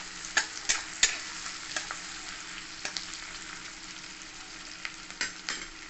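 Chopped garlic and ginger fry in a pan for chicken stew, a soft, even sizzle broken by several sharp spoon clinks and stirring scrapes.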